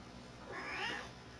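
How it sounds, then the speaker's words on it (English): A single drawn-out meow from a cat, clear and moderately loud, rising and fading over a low background hum. "It's our little kitty cat, Lucky Clovers."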